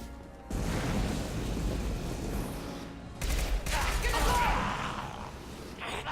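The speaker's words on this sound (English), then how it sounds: "Taking some fire, Shepard." Gunfire erupts in the PC game Mass Effect 2, with rapid bursts of shots and impacts layered over a dense, noisy combat soundscape that swells and dips across the scene.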